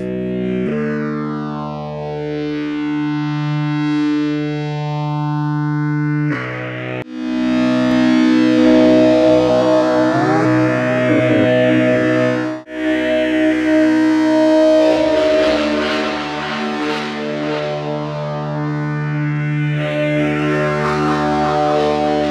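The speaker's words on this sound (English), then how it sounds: "Let's change the tone of the guitar." An electric guitar with its tone altered through effects, recorded on a Portastudio cassette, plays sustained distorted chords with sweeping, phaser-like swirls and pitch changes, loud and without any talking.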